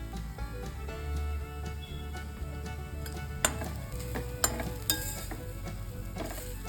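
Grated green coconut roasts with ghee in a pan over a low flame, a soft steady sizzle with occasional scraping and clinks from stirring.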